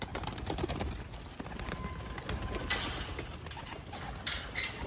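Racing pigeons flutter and shuffle outdoors at a loft amid rustling and clicking noises, with soft scattered sounds close by and no one speaking.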